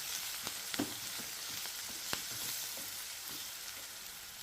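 Onions frying with a pinch of fenugreek powder and turmeric for a gongura and raw mango curry, a steady close sizzle punctuated by occasional sharp spatula clicks as the pan is stirred.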